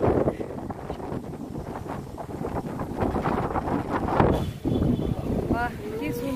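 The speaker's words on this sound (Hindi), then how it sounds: "वाह कि सुंदर हवा चलती बढ़िया पवन" Wind gusts buffet the microphone in a steady roar beside the Ganga river, with a boat's hum and a person talking throughout.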